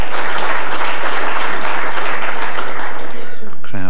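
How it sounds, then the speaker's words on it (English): A snooker crowd at the 1999 World Championship applauds a frame-ball shot during Jimmy White's break: dense, steady clapping fills the room from start to finish, and a voice begins speaking over it in the last moments. "Crowd very appreciative, they know that was frame ball."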